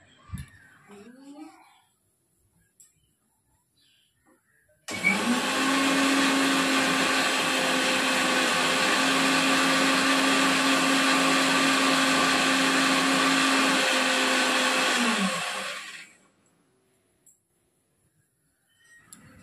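An electric grinder blends a spice paste of red and green chillies, its loud steady whir running about ten seconds and then winding down, with brief speech before and after.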